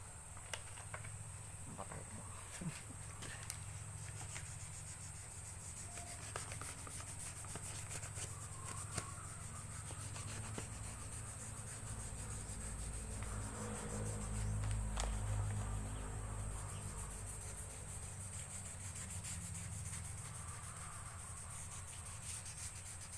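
Wet sanding with 2000-grit sandpaper during a small blended paint retouch: soft, repetitive rubbing strokes at low level with faint background noise, and a voice briefly in places.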